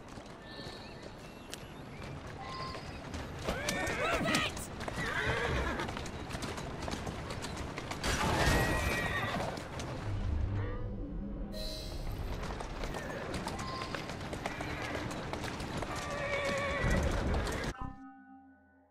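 Loud horse whinnies ring out over galloping hoofbeats and other game sounds in Assassin's Creed Syndicate, with a brief pause midway before the neighing and clatter resume.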